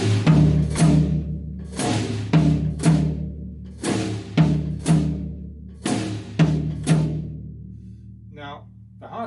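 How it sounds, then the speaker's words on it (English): A drum kit plays the right-hand and hi-hat pattern of a Ghana groove: repeated crisp strokes in a steady looping rhythm, close, with a brief voice near the end. "So the right hand and the left foot plays this."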